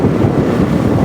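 Very strong wind roars across the microphone in a loud, continuous, buffeting rush with no pauses.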